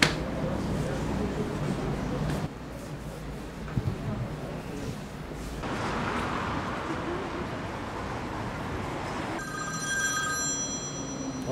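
A telephone ringing in a room, a steady electronic ring heard over low background noise and traffic, with a person speaking nearby.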